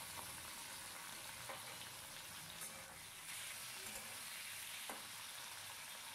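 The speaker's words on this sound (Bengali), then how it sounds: "চিংড়ি মাছটাকে ওপর নিচ নাড়াচাড়া করে ভেজে নেবো।" Washed prawns fry in mustard oil in a wok with a continuous, fairly faint sizzle, broken now and then by soft clicks of stirring. No one speaks.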